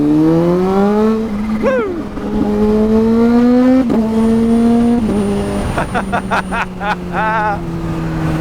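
Kawasaki Z H2 supercharged motorcycle accelerating hard through the gears, a loud, close engine note rising in pitch with brief drops at each shift, sustained throughout with high whining harmonics near the end.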